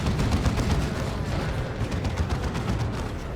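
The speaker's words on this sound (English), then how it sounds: "here is the Chaos Dreadnought with the default auto cannon" Chaos Dreadnought firing its default auto cannon in Dawn of War 2: Retribution, a dense, continuous barrage of heavy rapid shots and booming impacts that holds loud for the whole stretch without a break.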